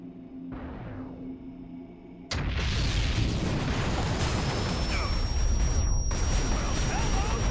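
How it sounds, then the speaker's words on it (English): A Titan airstrike in the XCOM video game lands with a sudden loud blast that settles into a dense, sustained roaring rumble. A quieter tone comes before the blast and a voice may be faintly present. "Now he can command its airstrikes just like an agent."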